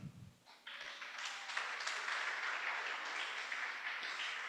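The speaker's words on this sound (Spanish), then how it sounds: "Denle un aplauso al Señor." A church congregation applauds, a sustained wash of clapping at moderate distance that starts after a brief low sound and continues evenly to the end.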